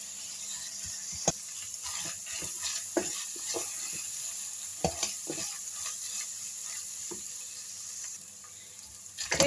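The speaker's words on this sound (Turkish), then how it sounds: "Biraz da kıymayla beraber kavuruyorum." Minced meat, 200 grams, fries with onions and peppers in a pan, a soft continuous sizzle broken by scattered spatula clicks and stirring scrapes, fairly quiet and close.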